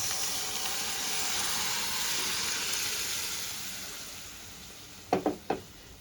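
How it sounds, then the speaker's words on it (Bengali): Boiled vegetables tipped into dhaba-style pav bhaji masala frying in a pan, a broad steady sizzle that slowly fades, then three quick close clanks of a spoon against the pan, with no talking. "এবার আমি সেদ্ধ করে রাখা সবজিটা দিয়ে দেবো"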